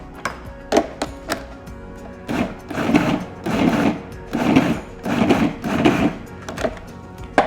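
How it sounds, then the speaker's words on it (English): A food processor pulses fresh salsa in short whirring bursts: a few quick taps, then about six rhythmic motor pulses close by, each chopping briefly before it stops. "We're gonna put this lid back on and pulse this one again."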